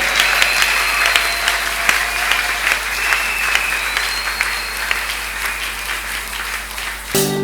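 A church congregation applauds steadily and loudly, a dense continuous wash of clapping that stops abruptly near the end.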